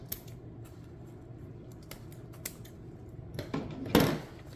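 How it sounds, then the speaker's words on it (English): Scissors trim loose ribbon ends on a Christmas wreath bow, a few sparse, quiet snips and rustles close by, ending in one louder, crisp cut. "Trim those pieces so they don't stand out."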